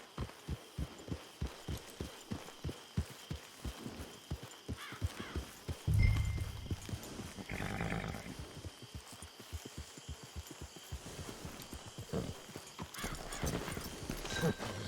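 Horse hooves clip-clopping in the Red Dead Redemption 2 video game, a steady rhythmic trot of close hoofbeats that slows and breaks off midway, followed by a brief snort and more scattered steps.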